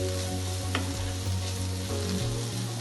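Ivy gourd frying with ginger garlic paste in a pan gives a steady, close sizzle that runs unbroken, with faint stirring scrapes now and then and no voices.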